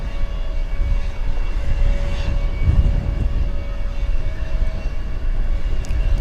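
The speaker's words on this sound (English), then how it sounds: "FedEx flight coming in from Alliance Airport in Fort Worth" A FedEx plane landing at DFW Airport, its engines producing a loud, steady, low roar that holds for several seconds with a brief swell partway through, heard alone without talk.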